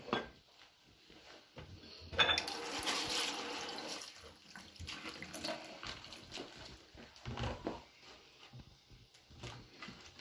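Close water splashing and tap-like running as ingredients for Nigerian moi moi are washed at a sink, with a louder gushing stretch partway through and scattered clunks of handling around it.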